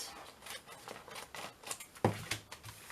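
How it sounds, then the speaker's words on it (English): Scissors cut through a cardboard matchbox in a short series of crisp snips, clearest and loudest near the end, close up against a quiet room. "So what I'm going to do, cut a little bit off this side."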